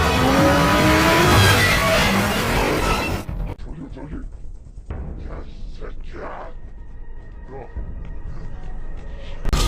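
Cars roar and skid through a movie car chase, with a dense, loud engine and tire rush at first, then quieter motor noise and impacts under a narrator's voice.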